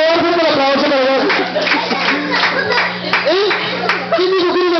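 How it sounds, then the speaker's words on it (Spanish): Audience clapping at a clown show in Tulancingo, Hidalgo, partly buried beneath loud voices and sung or shouted phrases that dominate the mix, with the claps rising and falling in bursts. "Un aplauso para el grabador, un aplauso para el grabador."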